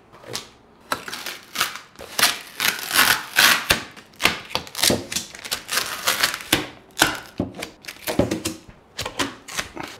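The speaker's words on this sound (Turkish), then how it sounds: "Evet, yan bantları açalım. Şurada bantlanmış." Packing tape is peeled and torn from the cardboard shipping box of a Bambu Lab X1C Carbon Combo 3D printer, a busy run of close, loud ripping, crackling and scraping bursts that continues without any speech.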